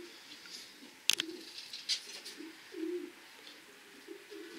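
Soft, low cooing of pigeons nearby in a breeding loft, several gentle murmuring calls, with a sharp flutter or clap and faint rustling in between.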